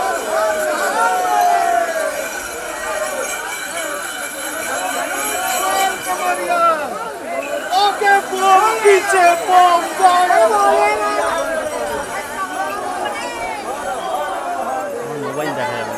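A huge crowd of pilgrims at the Baidyabati rail gate on the road to Tarakeshwar, a dense babble of many voices, shouts and calls that swells and peaks in the middle, with someone talking close over it.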